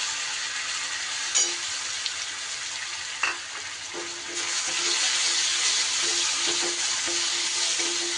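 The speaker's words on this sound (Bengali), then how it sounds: "একটু ভালো করে মশলাটা কষিয়ে নিতে হবে।" Spice paste for a taro (gati kochu) curry frying in a pan, a steady close sizzle with a few soft scrapes of stirring, swelling louder midway and continuing without speech.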